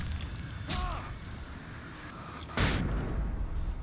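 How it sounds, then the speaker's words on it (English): A video game flashbang grenade goes off with a sharp, loud burst, following an earlier crack, amid a low rumbling background with brief voice sounds. "Ah! Flashbang myself."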